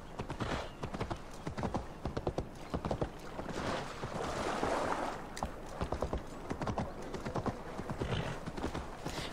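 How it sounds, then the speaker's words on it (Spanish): Horse hooves in the video game Assassin's Creed Valhalla, a rapid, even clip-clop of hoofbeats carrying two riders, repeating steadily with a brief rushing swell in the middle and faint speech underneath. "Vamos en el caballo porque vamos a ir más rápidos."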